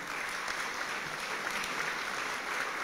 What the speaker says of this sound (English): So that's a big round of applause for them.